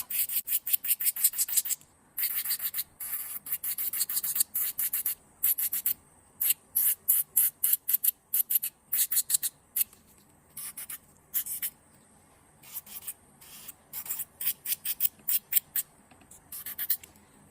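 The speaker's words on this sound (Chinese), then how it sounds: "我们来刻磨甲片的甲面" A nail drill buffs the surface of a press-on nail tip in short, repeated bursts of scratchy, hissing grinding separated by brief silences. The sound is close and fairly quiet, with no talking.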